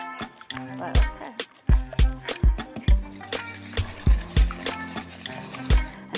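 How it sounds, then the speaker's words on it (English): Strawberries and cream muffin batter whisked in a bowl: a steady series of sharp knocks and clinks from the whisk against the bowl, roughly two per second, close and distinct. "I'm going to give this a little whiskey whisk."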